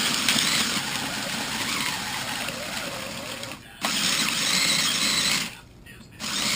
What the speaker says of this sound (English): Now we're going to grind them.